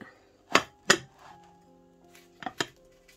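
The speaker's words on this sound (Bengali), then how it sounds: "বালিটা গরম হয়ে গেছে, এখন আমি এর মধ্যে বাটিটা বসিয়ে দিলাম।" A bowl set down into a pot of heated sand for baking bibikhana pitha, with two sharp metallic clunks followed by a ringing tone, then a few lighter clinks and knocks up close, no talking.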